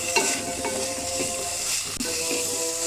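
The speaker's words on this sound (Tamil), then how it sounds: "ஒரு 1 நிமிஷம் நல்லா வதக்கி விட்டு அதோட கேஸ் ஆஃப் பண்ணிடுவோம்" Snake gourd stir-fry with grated coconut sautéing in a pan on a gas stove, a continuous close hissing sizzle with soft spatula stirring taps throughout the short stretch, no voices.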